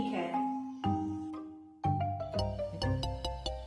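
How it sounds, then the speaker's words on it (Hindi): Phone ringtone playing a melodic repeating tune, fairly loud and alone, pausing briefly then resuming with a brighter, busier pattern. "ये किसका फोन है?"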